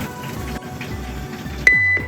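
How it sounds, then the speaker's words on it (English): A Broaster VF3 ventless fryer gives a single electronic beep when cooking is done, followed shortly by a second beep, over a low appliance hum. "it will beep to notify us that it is ready to pull out"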